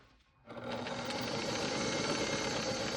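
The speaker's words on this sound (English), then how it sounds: "I am going to start and then back stitch, line up the fabric" A sewing machine starts after a brief pause and runs steadily while stitching and back stitching blouse fabric, a close, continuous mechanical whir.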